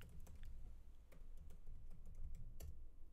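A computer keyboard clatters as a terminal command is typed, a quick irregular run of close, crisp key taps over a low background hum, with no voices.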